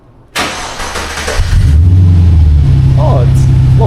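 A cheap Holden V8 with a cat-back exhaust fires up for the first time, a sharp crank catching into a loud, close engine that settles into a steady, deep idle rumble, with voices briefly over it.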